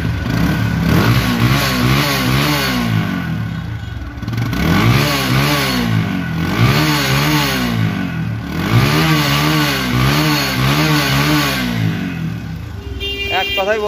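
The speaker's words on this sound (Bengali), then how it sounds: "এখন দেখো বাইকের সাউন্ড কোয়ালিটি এবং পারফরমেন্স।" A second-hand TVS Apache RTR 160 2V motorcycle engine revved repeatedly, three distinct rising-and-falling throttle sweeps over a steady idle, loud and close, fading out at the end.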